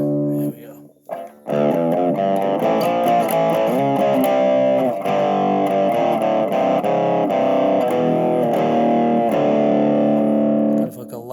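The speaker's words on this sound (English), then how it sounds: "Kind of like a light distortion" A Blackstar Fly 3 mini guitar amp plays with light distortion, a sustained run of overdriven guitar notes and chords after a brief pause, loud and close throughout.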